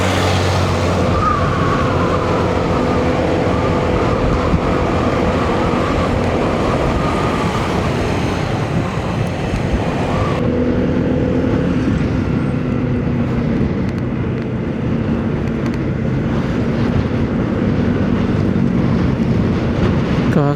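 Heavy trucks labor uphill on a mountain road in Aritao, Nueva Vizcaya, a steady, loud engine drone and road rumble with shifting tones that continues throughout, close by and with no talk.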